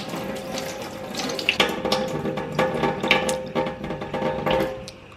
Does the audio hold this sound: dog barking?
no